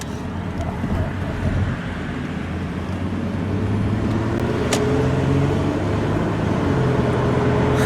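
Inside a 2003 Toyota Camry LE V6 as it accelerates gently from a traffic light, a steady low engine drone rises slowly in pitch under road and tire rumble, with no talking.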